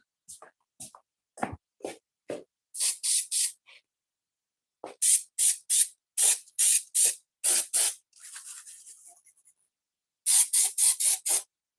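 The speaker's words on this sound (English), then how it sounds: "Step outside real quick and spray this a couple times and get it to start." A can of spray adhesive is sprayed outdoors in a series of short, close hissing bursts, some grouped in quick runs of three or four, with scattered taps and handling noises between them.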